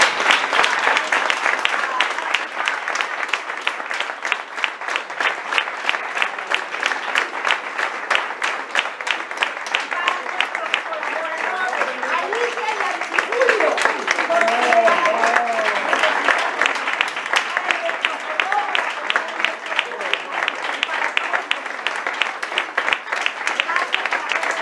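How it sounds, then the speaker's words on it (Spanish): Audience applauding a presenter at a stage show, dense sustained clapping from a crowd over about twenty-five seconds, with some voices mixed faintly into the ovation. "les voy a pedir un fuerte aplauso para nuestra presentadora"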